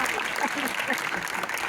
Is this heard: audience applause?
yes